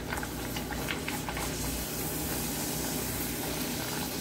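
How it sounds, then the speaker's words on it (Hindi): Puris deep-frying in hot oil in a kadai over high heat, a steady close bubbling hiss with light crackling pops throughout, no voices. "तेल अब हमारा अच्छा गर्म हो गया है, तो इसमें हम पूरियों को डालेंगे और एकदम तेज आंच पे पूरियों को हम फ्राई करेंगे।"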